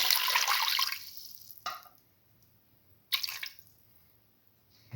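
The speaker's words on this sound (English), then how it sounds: "Now pour in around 250 ml of water." Water is poured into a red lentil and bottle gourd stew in a pressure cooker, with three short splashing pours separated by near silence.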